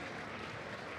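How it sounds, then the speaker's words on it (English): An audience at the ADAC SimRacing Expo claps in a dense, even patter of applause, faint and continuous throughout. "Give a warm hand of applause."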